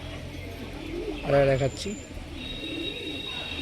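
A pair of pigeons cooing briefly and close by, a short soft call that rises in the middle of a quiet room, with someone speaking over it.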